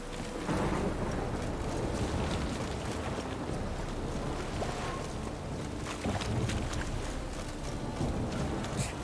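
Steady rain with low rumbling thunder in the video game Witcher 3, a dense continuous wash of sound filling the whole stretch.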